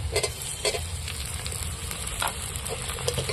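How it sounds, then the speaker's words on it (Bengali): Chopped tomato sizzling in hot oil in a pan for a Bengali fish curry, with a steady crackling fry and a few brief stirring clinks, moderately close and without talk. "টমেটোটাকে একটু চাড়া করে তেলের মধ্যে ভেজে নেব"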